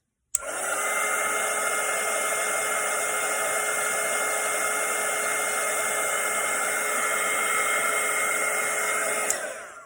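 A hair dryer blows steadily on a watercolour painting, switched on with a click and running loud and constant for about nine seconds before cutting off, with no voices.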